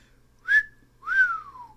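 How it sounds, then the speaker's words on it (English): A person whistles two clear, separate notes up close. The second note slides downward, and there is quiet before and between them. "Her companion's whistle became audible."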